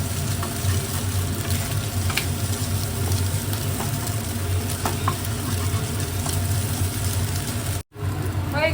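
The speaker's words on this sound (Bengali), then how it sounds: "হয়ে গেছে ডিমটা ভাজা" An egg frying in oil in a pan gives a steady, close, dense sizzle and crackle throughout, with light stirring scrapes, briefly cutting out near the end.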